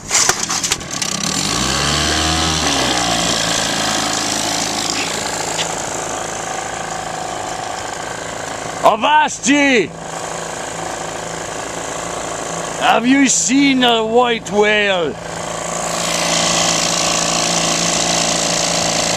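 A 1959 Johnson 3 hp outboard motor runs in a bucket of water. It gives a continuous loud drone that rises in pitch at the start, and someone speaks briefly over it twice.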